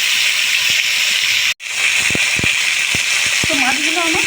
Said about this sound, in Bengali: মাছগুলো ভাজতে দেবো কিছুক্ষণ।